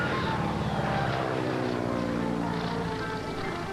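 Small training airplane engine drawing back on throttle during a flight lesson, a steady broad propeller drone that eases slightly in pitch and level over a few seconds, close and continuous with no talk.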